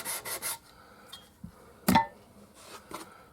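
Sanding during a setup of a 1961 Gibson SG Reissue guitar, with a few short rasping strokes up close, then quieter scrapes and a sharp clink, separated by pauses.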